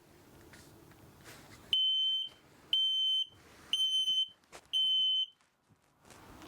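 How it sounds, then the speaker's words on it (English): A motorhome propane leak detector alarm on a Jayco Greyhawk XL 32U sounds four loud, piercing electronic beeps in a steady rhythm, each lasting about half a second, with quiet gaps between. "That's what it sounds like if there's an actual propane leak inside your motorhome."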